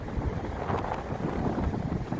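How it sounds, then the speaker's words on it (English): Strong wind on a sunny beach rumbles and blusters against the microphone, a continuous low roar with brief gusty swells. "It's real windy today"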